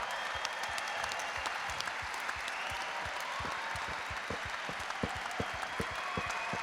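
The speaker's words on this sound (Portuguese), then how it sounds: "Queria dar um aplauso agora para as mulheres que estão neste lugar aqui." An audience at a GYM Brazil 2017 leaders' gathering claps steadily, a dense patter of many hands, moderately distant and sustained at an even level.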